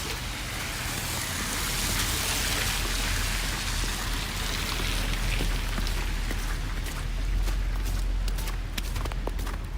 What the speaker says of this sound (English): It is raining now.